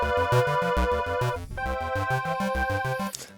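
8-bit chiptune synth sounds from an Ableton Live pack: a looping retro track with punchy bass, arpeggiated square-wave tones and a sustained pad, with a brief break in the middle before the pattern resumes.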